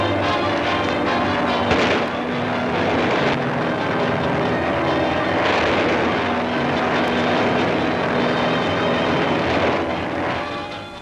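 WWII Navy and Marine fighter planes in old newsreel footage: a dense, loud roar of aircraft engines blended with booming blasts, continuous and rough, with no narration over it.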